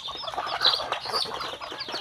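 Chickens caught the previous night cluck from a rural farmyard, a busy layered mix of bird calls and rustling, with no speech over it.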